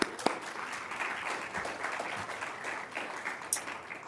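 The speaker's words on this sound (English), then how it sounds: "Give them a round of applause real quick." A modest crowd applauds candidates at a school board chairperson debate. The clapping is soft and distant, an even patter lasting several seconds with one or two brighter claps near the start and end.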